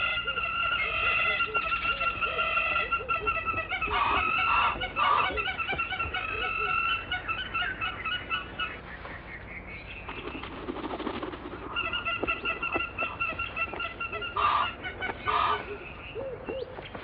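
Hammerkops call during their excitement display with a long run of repeated, rhythmic piping calls that are fairly loud and near, briefly thinning out midway before resuming in quick bursts.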